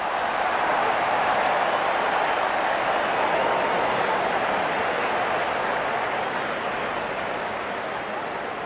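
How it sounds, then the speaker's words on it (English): Steady broadband crowd applause from a cricket video game, filling the whole stretch at an even level with no clear voices on top. "The crowd is enjoying every bit of this action."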